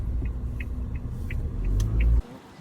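A converted Toyota HiAce van rolls past on a road in Pampanga, a steady low engine rumble close by that swells, then cuts off abruptly near the end, with faint chirps above.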